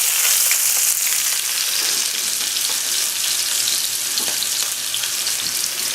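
Chopped onion and garlic sizzling in hot oil in a pan, a steady close bright crackle that holds evenly throughout with small pops scattered over it.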